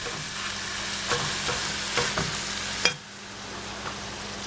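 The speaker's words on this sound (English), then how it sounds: "I'm just gonna brown this just the way it is" Ground meat browning in a frying pan for biscuits and gravy gives a loud, continuous sizzle, broken by scraping stirs and utensil clicks. A short scrape near the end cuts the sizzle down to a softer hiss.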